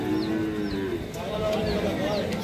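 Sahiwal bull calves low repeatedly in a noisy cattle market, their moos rising and falling over steady crowd murmur and background voices.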